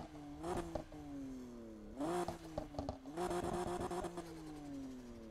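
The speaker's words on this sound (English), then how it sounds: "I'll rev the engine and listen to this." A widebody BMW M4 in the Need for Speed Payback video game is revved in three sharp bursts: the engine climbs in pitch, settles back, then climbs again, loud and close with no talking.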